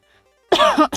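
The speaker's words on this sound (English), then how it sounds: "Got the stoner cough going on now." A single harsh, raspy cough bursts out close by after a moment of near silence, followed by a brief second hack.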